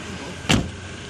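One solid thump of a car door shutting as someone gets into the vehicle, close and brief over a low steady background hum.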